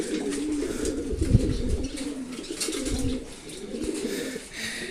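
Racing pigeons cooing softly in a loft, low murmuring coos overlapping in a steady chorus with faint background noise, fairly close.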